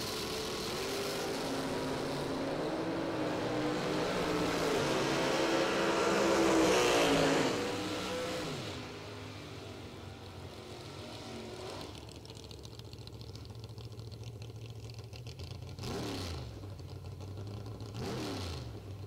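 Chevrolet Malibu drag race cars at a drag racing event accelerate hard, a loud engine roar climbing in pitch before fading into the distance, followed by further faint passes and revs.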